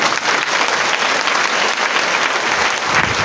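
Loud, dense audience applause fills the space steadily from start to finish at a direct selling team-building seminar, a broad crowd of clapping hands with no voices standing out.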